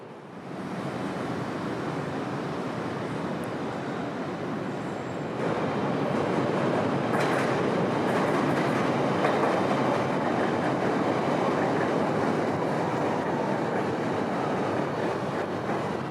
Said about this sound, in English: a few shots of the already 30-year-old subways completing their duties for this day